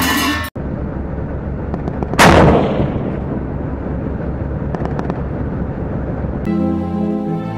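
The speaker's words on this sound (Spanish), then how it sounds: "¡Atención, disparo!" A TAM (Tanque Argentino Mediano) tank cannon fires once with a loud, sharp blast that rolls off into a long echoing rumble over a steady engine drone.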